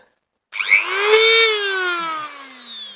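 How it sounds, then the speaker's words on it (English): Wire brush spun fast in a Dremel rotary tool, working on a garden tractor part: a sudden high whine starts after half a second, its pitch sagging slightly as the bristles bite, steady and close throughout. "wire brush in the Dremel now"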